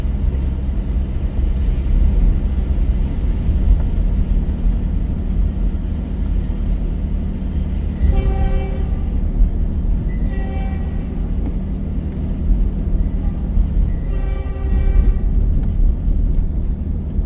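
A train rumbles past steadily in heavy snow, its horn sounding in three separate blasts, each lasting about a second, over the continuous low roar of the wheels.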